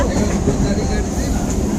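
A moving train on the Hasnabad line in rural Bengal past farm fields, a steady close rumble and rattle of the carriage filling the whole stretch, with faint voices mixed in.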